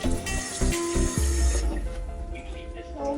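A cabin sink tap aboard a Royal Caribbean cruise ship, Vision of the Seas, runs with a strong, close rushing stream of water that eases off toward the end, with a few hard knocks early on.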